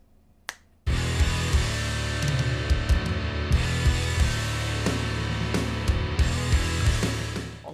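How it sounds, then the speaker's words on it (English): Punchy kick drum hits thump steadily through a full drum mix, with cymbals and other drums playing over the beat after a brief snap. "get your kick drums sounding as good as they possibly can do with your home recordings"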